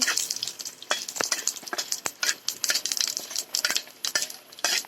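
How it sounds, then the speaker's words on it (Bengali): Bay leaf, whole cumin and two dried chilies frying in oil for a vegetarian soybean and potato curry, with close crackling sizzle and repeated scraping clinks of a spatula stirring the pan. "এরপরে আমি দিয়ে দিয়েছি তেজপাতা, গোটা জিরে, দিয়ে দেবো শুকনো লঙ্কা দুটো। আবার আমি নেড়ে চেড়ে নেব।"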